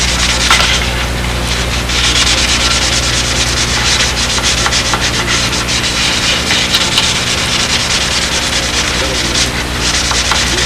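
Sandpaper of 600 grit rubbing steadily over the metal surfaces inside a homebuilt Windy Sidewinder aircraft cockpit, a continuous loud scratchy swish with no talk.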